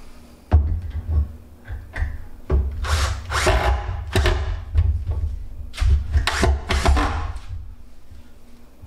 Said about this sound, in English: You just take your drill